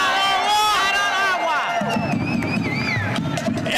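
A political rally crowd breaks into loud cheering and hubbub that swells after a short stretch of a voice speaking, a broad roar of many people filling the space.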